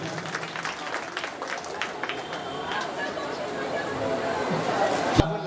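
Audience at a school Teacher's Day program applauds, scattered clapping that grows denser over several seconds amid background chatter, ending with a sharp knock.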